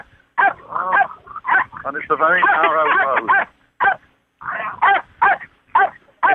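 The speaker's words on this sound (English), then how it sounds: "Dogs have just spotted dogs, so just give me a moment." Dogs in Ireland bark, yelp and howl in a close, loud series of calls, including a longer wavering howl in the middle, with someone speaking briefly among them.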